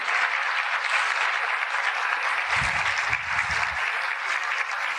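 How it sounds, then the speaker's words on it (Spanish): A church congregation gives sustained applause during a sermon, a continuous dense wash of clapping with a few low thumps partway through. "dele aplauso al Señor"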